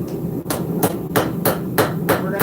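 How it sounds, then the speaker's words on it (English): A hammer forges a knife blade, thinning the finger choil area with about seven loud, close, evenly spaced metallic blows in a steady rhythm and no talking. "We're going to hammer in that little finger choil area and thin that area out a little bit."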